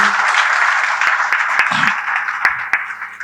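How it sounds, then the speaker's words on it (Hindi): Applause from an audience at a Corona warriors honour and volunteers award ceremony, a loud steady clapping wash for about three seconds with a few sharper knocks and a brief voice. "एक बार पुनः इन कोरोना वॉरियर्स के लिए तालियां तो बजा ली,"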